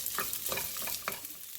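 Cold cooked rice being stir-fried in a pan, with a steady crackling sizzle broken by repeated scraping stirs, close and fairly quiet.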